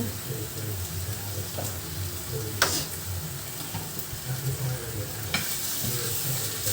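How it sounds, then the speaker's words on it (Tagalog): Pork sizzling and frying in oil in a pan while being stirred, a steady crackling hiss with occasional sharper scrapes and clinks of the utensil against the pan. "So ayan, haluin ko lang muna yung ating pork. Lagyan tayo ng oil."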